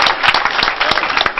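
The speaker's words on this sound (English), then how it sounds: "give a big round of applause" A crowd applauds at a Lagos State government briefing, a short burst of dense, steady clapping heard up close.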